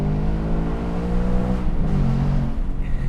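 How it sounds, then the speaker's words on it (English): A Ford Mustang Dark Horse V8 pulls hard under acceleration, a steady throaty engine drone rising in pitch, heard loud and close from inside the cabin with no talking. "It sounds so throaty."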